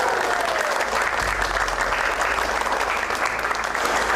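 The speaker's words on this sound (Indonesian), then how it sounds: "Saya mohon tepuk tangan untuk Juragan Kasan." Villagers applauding at a gathering, a dense, steady round of clapping that holds loud and even from start to finish.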